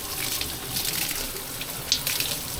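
Spring water pouring steadily out of the outlet at Fredrick-Miller Spring, a continuous close splashing gush with no pauses.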